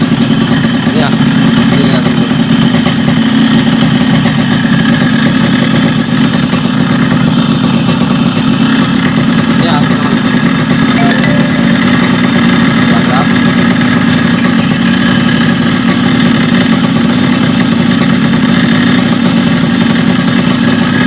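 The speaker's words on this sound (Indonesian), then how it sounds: "sekarang kita nyalain dulu motornya" A Yamaha RX King motorcycle's engine runs steadily at idle, loud and close, with a continuous rattling two-stroke drone that holds constant throughout with no talk over it.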